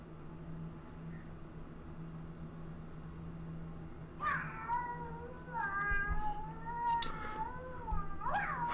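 A person imitating a cat, giving several drawn-out, wavering meows and caterwauls over a quiet hum, starting after a few seconds of near silence.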